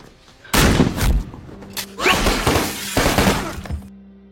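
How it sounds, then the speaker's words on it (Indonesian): Gunfire rings out in a gangster film shootout at a motel, with a series of loud, close blasts and crashing, shattering impacts repeating over a few seconds. "Dua anggota gangster mampus ditembak timah panas."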